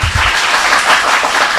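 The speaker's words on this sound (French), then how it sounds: "Merci d'applaudir." Brief burst of audience applause for a member of a school quiz team from Lycée National de Pétionville, loud close clapping from a crowd lasting under two seconds.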